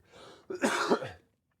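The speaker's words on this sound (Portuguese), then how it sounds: "às vezes vai vir uma tosse" A couple of close, harsh coughs from a man ill with Covid, a short throaty one followed by a louder, heavier burst, then silence.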